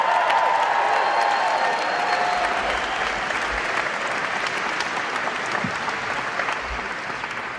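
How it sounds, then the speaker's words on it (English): A congregation at a university baccalaureate service applauds a band and its soloists: sustained, even crowd clapping that fills the hall, with faint cheers and a few stray tones mixed in, gradually easing slightly toward the end. "One more rousing round of applause for this absolutely great band and for our soloists."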